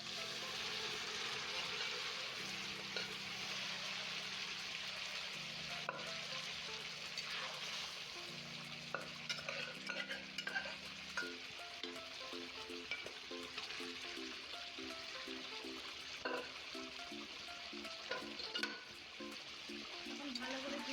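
Boiled mutton and spiced masala fry together in a pan, a steady sizzle with scraping stir strokes throughout, while someone talks over the cooking.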